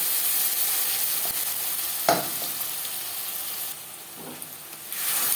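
Spice paste frying with onions in hot oil in a kadai: a steady close sizzle with a sharp spatula knock and scraping stirs, the hiss briefly easing before rising again, with no talk.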